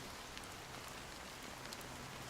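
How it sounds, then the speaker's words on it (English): A fine, steady drizzle of rain patters softly and evenly in Honkai: Star Rail, a faint continuous hiss with no voices. "Amidst the fine drizzle of the black rain"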